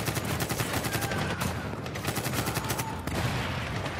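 Machine gun fire from the video game Medal of Honor (2010) rattles in rapid bursts with a pause in the middle, loud and sustained, layered over the game's battle ambience.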